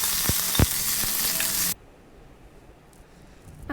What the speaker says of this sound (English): Now saute the onions well